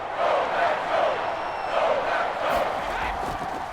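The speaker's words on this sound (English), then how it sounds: "the crowd getting into it as we come up on a big 3rd down" Football stadium crowd roaring as a big third down approaches in a Packers versus Buccaneers game, a loud, continuous wash of cheering and shouting from a large distant crowd that swells in waves.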